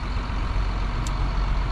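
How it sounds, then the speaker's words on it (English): A farm truck's engine idles with a deep, steady low rumble and a constant broad hum, close and unbroken, with a brief faint high chirp midway. "So got the truck fired up"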